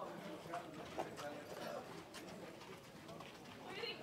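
A February-born filly walks at a Lexington horse sale, her hooves giving a light, steady clip-clop at moderate distance, with murmured voices and crowd noise underneath.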